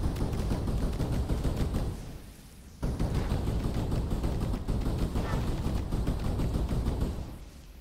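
Spray gunfire rattles in the video game Skyforge during a Mare Sacro Monastery run: dense, rapid automatic bursts with a short lull in the middle, then continuous firing that tapers off at the end.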